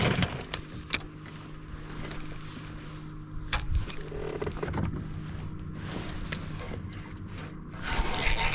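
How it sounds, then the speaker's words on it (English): An electric trolling motor runs on a small fishing boat during December crappie fishing, a steady low hum with scattered clicks and knocks, close by and without voices. "I gotta stop this trolling motor."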